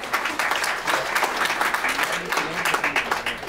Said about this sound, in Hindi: आप सब अपने लिए ताली बजा दीजिए